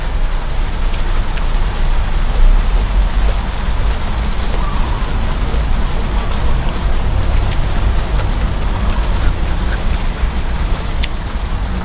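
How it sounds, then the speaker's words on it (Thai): Heavy rain pours down steadily outdoors, a loud, dense and unbroken hiss of drops on surfaces with no breaks, running alone for the whole stretch. "รีบกินค่ะฝนตกแล้ว"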